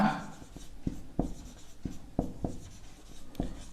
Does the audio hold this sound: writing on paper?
yes